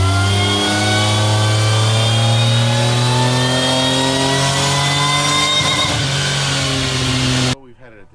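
A car engine on a dyno revs hard and climbs steadily in pitch over several seconds, loud and close, then cuts off abruptly at the end.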